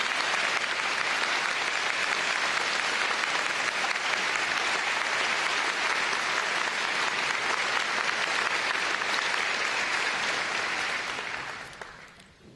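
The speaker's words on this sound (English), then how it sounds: "I hope you'll give them a big round of applause." Long, loud, steady applause from a large audience at a college presidential inauguration, the dense clapping continuing for about eleven seconds before tapering off quickly.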